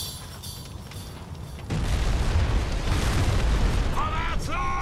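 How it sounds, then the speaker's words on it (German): A grenade blast in the shooter Crysis Warhead erupts with a sudden loud, broadband boom whose rumble carries on for several seconds, followed by a couple of short bright whistling tones near the end. "Granate, Granate!"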